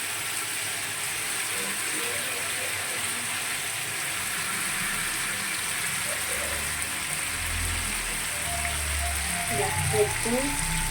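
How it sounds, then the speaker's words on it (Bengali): Marinated chicken chaap fries in hot oil with a constant, close crackling hiss, while a voice talks over the spattering near the end. "চিকেনটা পুরো ভাজা হবে"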